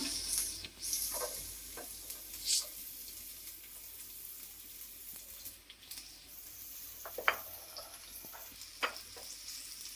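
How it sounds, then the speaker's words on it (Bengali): Chopped onions fry gently in a pan, a faint, soft sizzle with scattered light stirring clicks and scrapes, quiet and unaccompanied by voices. "পেঁয়াজ কুচিগুলো আমি হালকা একটু ভেজে নেব"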